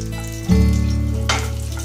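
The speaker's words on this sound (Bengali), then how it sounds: "এই তেলটা দিয়ে না আমি আলু পটল একটু ভেজে নেবো" Potato and pointed gourd hit leftover oil in a pan with a sudden loud sizzle, then settle into a steady close frying hiss, with a second burst as more pieces go in.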